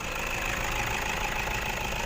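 An eight-year-old Toyota Hilux Vigo Champ 2.5-litre 120 hp pickup engine idles continuously at close range, a smooth low rumble with a faint rattling texture and no voices.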